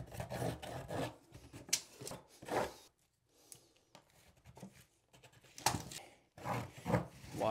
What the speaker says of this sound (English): So really we need to cut this membrane down.